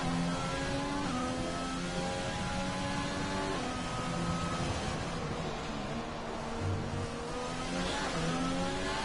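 An F1 car engine in a Monaco racing video game screams close against a wall, its high rising and falling rev tones doubled by reverberation, with continuous gear shifts and no talk.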